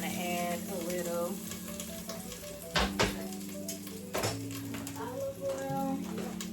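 Chicken pieces sizzle and fry steadily in a hot pan, browning on both ends, with a constant crackle and occasional louder clinks and stirring scrapes of a utensil against the pan.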